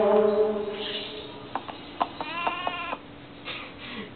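Cartoon sheep from My Little Pony: Friendship is Magic bleat in a series of short wavering calls, some layered and sung over a tonal musical bed, rising and falling across a few seconds.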